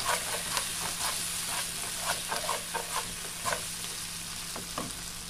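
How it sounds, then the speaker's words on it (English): Beef stew ingredients being stirred in a hot pan, with a steady close sizzle and repeated scraping spoon strokes at an uneven rhythm. "Stir everything together now."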